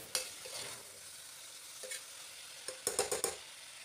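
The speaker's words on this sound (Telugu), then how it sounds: "2-3 నిమిషాల తర్వాతకి మళ్ళీ మూత తీసి చిక్కుడుకాయని మరొకసారి కలుపుకోవాలండి" A broad bean curry is stirred in a hot pan after the lid is lifted: a soft continuous sizzle with scraping spoon strokes, one near the start and a quick cluster of scrapes toward the end, with no talking.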